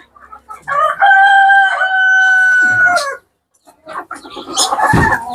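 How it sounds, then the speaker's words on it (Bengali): Farm chickens in a poultry shed: a rooster gives one long, loud crow close by, followed by a short pause and then a burst of clucking and squawking from the hens. "এখন দেখেন আমাদের ফার্মি মুরগিগুলো দেখেন"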